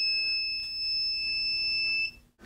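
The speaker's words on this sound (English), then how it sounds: "that beeping was actually my inverter" A power inverter beeps steadily under a heavy 170-amp load drawn from a 100Ah LiFePO4 battery, giving a sustained high-pitched electronic tone that cuts off abruptly near the end.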